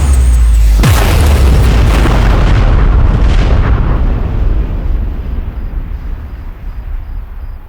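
A single loud firework bomb bursts with a sharp crack and deep boom, then a long rumbling, crackling decay fades over several seconds, with no voices.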